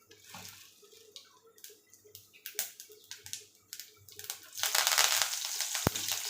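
Mustard seeds crackle and pop in hot oil as a scattered run of sharp snaps, building into a denser, louder sizzle toward the end, with one bright crack near the close.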